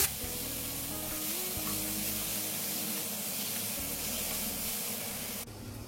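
Half a kilo of chicken frying in ginger-garlic paste, a steady, loud sizzle and hiss that holds for several seconds with no voice, then drops off abruptly at the end.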